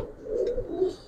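Giribaz high-flying pigeons coo softly and continuously, a low murmuring call lasting about a second, close by with a faint background.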